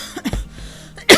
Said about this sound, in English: And I do have a cough